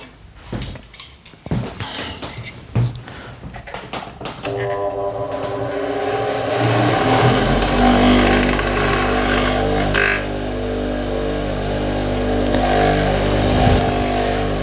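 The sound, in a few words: grinding a graver on the rough grinding wheel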